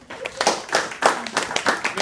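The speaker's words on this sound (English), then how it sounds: "we should try to differentiate your clapping" An audience claps in short, uneven bursts at a coastal-themed costume contest, the quick rounds of hand claps rising and falling close by.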